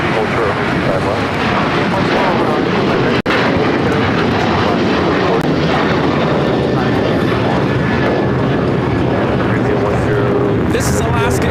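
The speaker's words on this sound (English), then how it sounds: "This is Alaska Airlines 284 taking off to Newark on the 737-800 in the Kwani livery." An Alaska Airlines Boeing 737-800 jet taking off at LAX, a loud steady roar of engines throughout, with wind buffeting the microphone and faint talk beneath.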